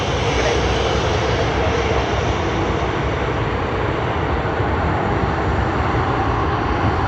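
A Jetstar Boeing 787 airliner at Sydney Airport gives a steady, loud jet engine roar that fills the whole stretch without letting up, heard from a planespotting spot.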